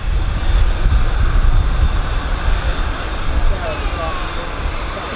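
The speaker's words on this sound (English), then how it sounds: "Qatar 787." A Qatar Airways Boeing 787 produces a steady engine roar at Manchester Airport's runway visitors park, a broad, continuous rumble with a faint rising whine near the end.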